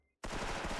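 Gunfire in the online shooter Special Force Legends during a 5v5 bomb-mission match: after a brief silence, a loud burst of rapid shots starts abruptly and continues to the end.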